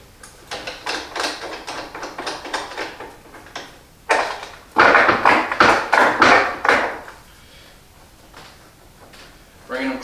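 A clamp handle is cranked to draw glued wooden table-top boards together, giving a series of ratcheting, clicking pulls in two bursts, with the second louder and busier and a voice talking over parts of it.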